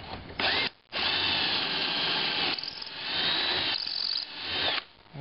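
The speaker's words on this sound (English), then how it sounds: "And then drill it." A power drill bores into a piece of wood clamped flush to a table, whining loudly and steadily at close range. It stops briefly and then starts again, with no talk over it.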